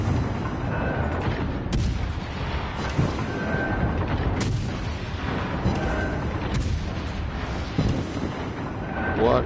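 Warship naval guns fire shells in World of Warships Legends, with several heavy booms rolling out over a dense, continuous battle rumble, strongest near the start and in the middle.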